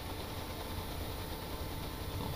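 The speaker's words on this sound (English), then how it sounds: "the beam engine is actually engining" A beam engine drives a boat in the game Stormworks, giving a continuous low, rumbling drone with a steady mechanical churn that stays even and moderately loud throughout, with no voices.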